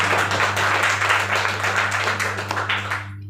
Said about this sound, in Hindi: पहले जोरदार ताली बजाई जाए